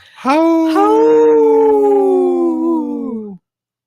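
A single long, loud howl that rises quickly, holds a steady wavering pitch for about three seconds, then cuts off.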